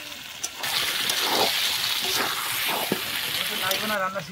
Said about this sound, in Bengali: মাংসটা খুব ভালো করে কষিয়ে নেব